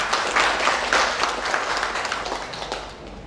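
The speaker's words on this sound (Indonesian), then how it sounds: "Ya, tepuk tangan untuk kita semua." A hall of university students at a community-service program orientation claps together, the crowded patter loud at first and then gradually thinning and fading toward the end.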